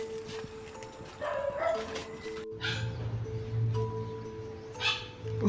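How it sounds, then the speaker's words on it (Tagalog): A dog near an abandoned gas station gives short yips and whimpering barks at close range amid background noise and some human voices. "may aso. Aso pa talaga yan"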